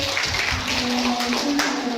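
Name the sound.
applause for Pak Amir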